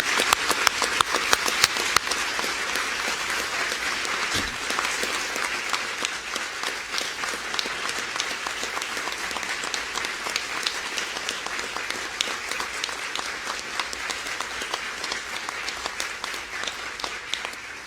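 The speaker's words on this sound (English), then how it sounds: "let's just give a great round of applause" A large audience at a cancer center ceremony breaks into sustained, vigorous applause, sharp individual claps standing out early before settling into a dense, steady roar that slowly eases.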